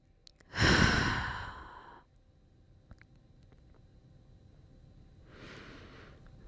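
A single deep, loud exhale during a stretching and flexibility routine fades out over about a second. Quiet follows, then a softer second breath near the end.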